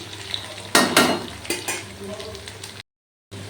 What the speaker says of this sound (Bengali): জিরে আর তেজপাতা ফোড়নের সঙ্গে আলুগুলো ভাজছি